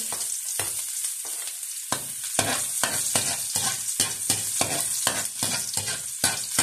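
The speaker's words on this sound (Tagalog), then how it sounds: "Mainit na po yung ating kawali. Lagay na po natin mga kaguro. Painahan po muna natin. Lagay po muna natin ang bawang mga kaguro." Garlic dropped into a little hot oil in a frying pan sizzles loudly, with repeated scraping strokes of a spatula giving a quick irregular rhythm, close up and free of speech.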